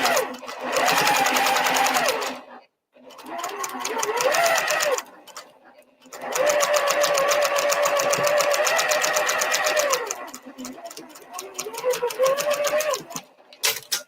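A sewing machine stitches a Fascination 3 yard quilt in long, loud bursts of rapid mechanical whirring, broken by short pauses, heard up close with no one talking.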